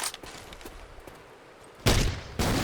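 A grenade launcher in Left 4 Dead 2 gives faint scattered clicks and thuds, then two loud, close, sharp blasts about half a second apart, with no talking.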